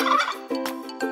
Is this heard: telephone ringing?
no